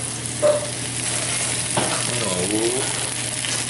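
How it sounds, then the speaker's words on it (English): Picked spinach drops into a buttery French omelette pan and sizzles, a steady close frying hiss with a brief clatter and scrape as the leaves go in. "Just let that enter the pan like that."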